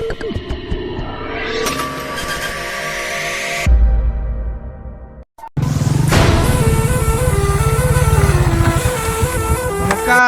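A Hero Splendor motorcycle idles and revs up close, its engine and stock exhaust droning steadily, then after a brief pause it starts again and runs with a rhythmic, pulsing exhaust note.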